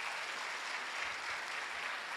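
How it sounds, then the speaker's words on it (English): Audience applause at a physician assistants' induction ceremony in Ghana, honoring a deputy minister: steady, dense clapping from a large crowd, sustained evenly throughout at moderate, slightly distant level with no talk. "A big applause for the Honorable Deputy Minister."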